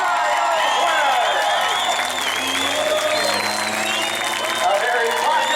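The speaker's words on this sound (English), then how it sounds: "one of the loudest crowd reactions we've had in quite some time" A short-track racing crowd at New Smyrna roars and applauds for the race winner, a loud sustained wash of clapping and cheering with whoops, while an announcer talks over it.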